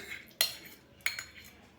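A spoon scrapes and clinks twice against a bowl while spices are mixed with cream and yogurt for thepla dough, short close taps over a soft background.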